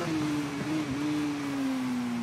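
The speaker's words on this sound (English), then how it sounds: "Now you could hear that bump as the revs dipped. Under braking." A supersport motorcycle engine in the TT Isle of Man racing game holds a steady droning tone whose pitch slowly falls as the revs dip under braking, with a small bump partway through.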